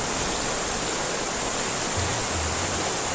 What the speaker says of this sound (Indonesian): Melihat air terjun yang sangat deras.